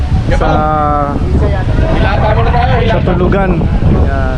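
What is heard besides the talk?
strong wind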